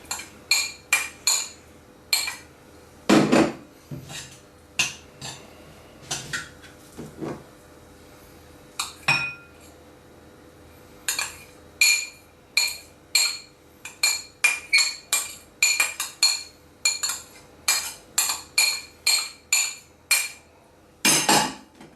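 A utensil clinks and scrapes around a bowl while cheese and sausage sandwich filling is mixed, giving rhythmic knocking strokes in bursts with brief pauses, close and with no talk.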